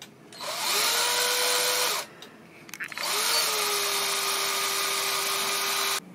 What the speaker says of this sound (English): this is our drill